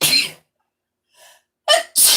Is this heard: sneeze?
yes